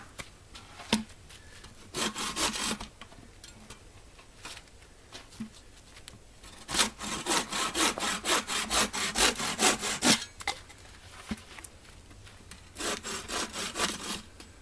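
Hand saw cutting through dead wood outdoors for a small campfire, three bursts of rapid, rhythmic back-and-forth strokes, close and fairly loud, separated by short pauses with light rustling.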